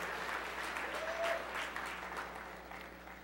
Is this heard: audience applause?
yes